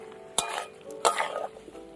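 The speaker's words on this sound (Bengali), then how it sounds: "ওল দিয়ে চিংড়ি মাছ দিয়ে এইভাবে কষিয়ে রান্না করতে হবে" Prawns with elephant foot yam and spices are sautéed in a pan, with two sharp clinks of a utensil scraping and stirring over a soft continuous sizzle, fairly quiet and close.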